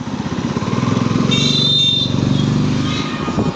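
A motorbike rides along a road in Kokrajhar, its engine a steady close rumble throughout with a faint high whine in the middle.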